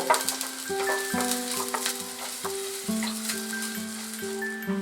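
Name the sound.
frying chopped onion on medium flame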